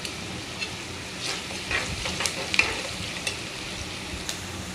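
Cumin, onion, curry leaves and garlic-coriander paste frying in a pan, a continuous close crackle and hiss with scattered stirring scrapes and small pops, no voices present.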